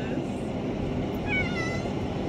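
A cat gives a plaintive, wavering meow over a constant low rumble of background noise.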